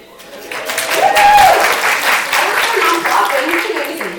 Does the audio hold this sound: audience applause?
yes